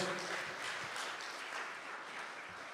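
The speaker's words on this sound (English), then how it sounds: "Give him a round of applause." Steady crowd applause, a dense wash of many hands clapping continuously throughout, fairly loud and sustained.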